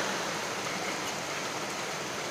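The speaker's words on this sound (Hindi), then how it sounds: "अभी बारिश हो रही है" Steady rain falls outside a balcony facing a hill in Thane, a dense even hiss of drops with no pauses and no other sounds standing out.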